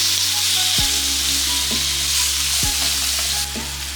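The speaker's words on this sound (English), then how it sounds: "Let's go ahead and add our sirloin." Sirloin steak sears in grapeseed oil in a pan heated nearly to smoking, giving a loud, steady sizzle with a constant hiss and a few sharp knocks of the pan or utensil.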